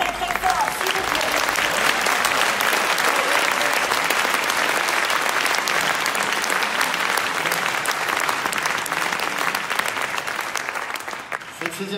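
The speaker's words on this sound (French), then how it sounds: "Ils sont tous là, vous pouvez les applaudir très très fort" An audience at an award ceremony applauds the winners in a loud, sustained burst of dense clapping that holds steady and then tapers slightly at the end.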